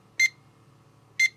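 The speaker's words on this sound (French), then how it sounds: "Et là, c'est qu'un seul bip, voilà, successif." A wooden digital alarm clock, the aboveClock, sounding a pair of single high electronic beeps about a second apart, clear and close, over a quiet background hum.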